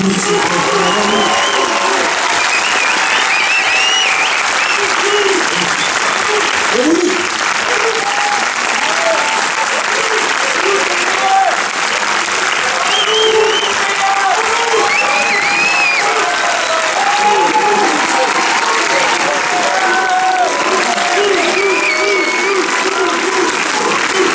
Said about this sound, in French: C'est bon, on applaudit très fort.